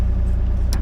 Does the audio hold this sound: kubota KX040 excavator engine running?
yes